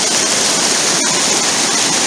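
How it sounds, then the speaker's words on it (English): A mountain waterfall and a fast-flowing river beside a hiking path in the Pyrenees roar loudly and constantly, a dense rushing wash of water close by. "Waterfall over here,"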